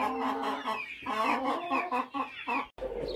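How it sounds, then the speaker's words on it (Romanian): Hens clucking continuously in a cleaned-out chicken coop, close and fairly loud, with overlapping calls in an irregular rhythm and a brief pause near the end. "Am scos găinile afară"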